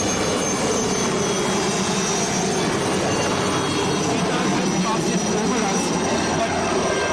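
A Cheetah helicopter flying ration sorties to an army base on the Siachen glacier gives a steady, loud rotor and engine roar that runs continuously throughout.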